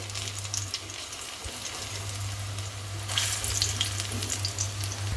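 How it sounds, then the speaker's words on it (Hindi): Spinach koftas deep fry in oil, a steady bubbling sizzle over a low background hum that swells louder and more crackly partway through, as if freshly stirred or turned. "इसे गोल्डन ब्राउन होने तक हम इसे डीप फ्राई कर लेंगे"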